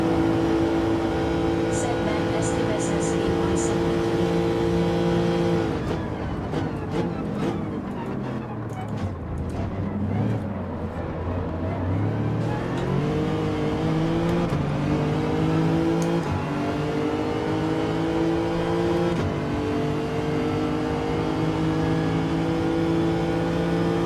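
Race car engines in Gran Turismo 7 accelerating hard: a steady droning whine climbs through the gears, dips, then rises again, loud and continuous throughout.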